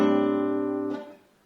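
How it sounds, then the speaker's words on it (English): A single piano chord voiced with an 11th extension rings out for about a second, then is released and fades, heard alone without talk. "So the 11th extension will sound like this."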